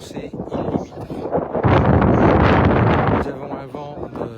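Wind gusting across an open field where F3K hand-launched gliders are flown, a steady broadband rush that swells loud in the middle, with a person talking over it.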